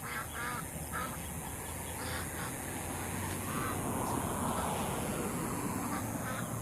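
A duck guarding its ducklings gives faint, scattered quacks and honks against steady outdoor background noise, with no clear talk.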